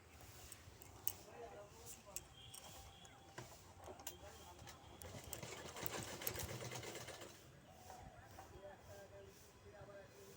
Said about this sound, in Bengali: মুড়িয়ে সেলাই করব।